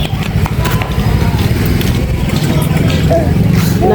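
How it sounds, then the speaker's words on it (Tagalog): A motorcycle passes along a busy street, its low pulsing engine rumble steady and close throughout, with faint voices in the background. "May motor."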